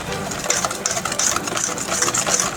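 Electric mixer with a whisk attachment running steadily through butter, melted chocolate, sugar and cocoa for a torte, a close, continuous whirring hum with a rattling edge and no talk.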